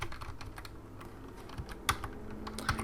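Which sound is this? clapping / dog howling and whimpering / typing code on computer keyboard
typing code on computer keyboard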